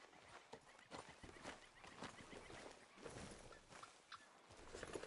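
Horse hooves clip-clop at a steady walk in the open-world western game Red Dead Redemption 2, the irregular thuds fairly close and moderately loud over outdoor ambience, with no talk.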